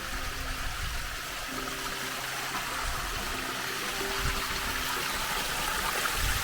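A shallow stream of water flows and trickles through a desert wadi just before a bend, a continuous soft gurgling wash heard up close with no voices.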